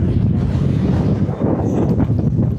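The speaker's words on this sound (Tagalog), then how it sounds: "Nakakatangay yung hangin." Strong wind roars and buffets the microphone outdoors in Jeju, Korea, a continuous close rumble with no pauses and no talk.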